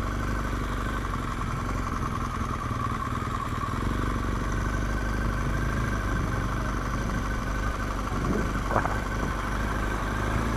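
Motorcycles at a busy Sunday bike meet in Matlock Bath, a steady low rumble of engines idling and passing at moderate distance under continuous traffic noise, with no talk.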